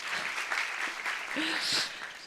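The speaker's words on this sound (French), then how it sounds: "On applaudit, s'il vous plaît." Audience applause at an architecture conference on construction site supervision, a steady, moderate wash of clapping lasting a couple of seconds with a voice briefly heard over it.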